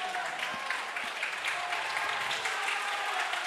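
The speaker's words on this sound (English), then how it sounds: "the fans are applauding Hougang's efforts" Football fans at a Singapore Premier League match between Albirex Niigata and Hougang United clap for Hougang's efforts, a sustained stadium applause that holds steady and fairly distant for the whole stretch.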